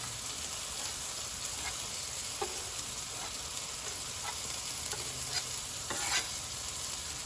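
Diced shallots and mushrooms fry in a pan with a steady, close sizzle, punctuated by occasional soft stirring clicks and scrapes.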